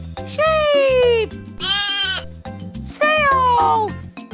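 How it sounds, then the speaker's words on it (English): A sheep bleats three times, each a loud wavering baa with short gaps between, close and clear, set against a light rhythmic backing. "Sheep!"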